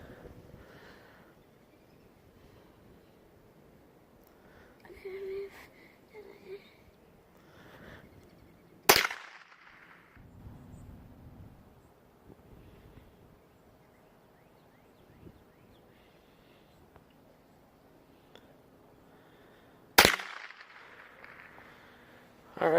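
Two sharp, loud gunshots crack out at a shooting range about eleven seconds apart, with quiet rustling and faint voices in between.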